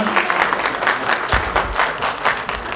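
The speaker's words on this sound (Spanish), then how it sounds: "Un aplauso por favor a Nina Uma," Audience applause breaks out at an arts-in-education forum event, a steady wash of many hands clapping at close range throughout, with no speech over it.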